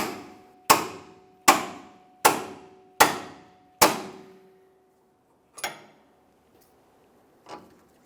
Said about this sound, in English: Now we'll continue on with a pickle fork and a hammer and separate the joint.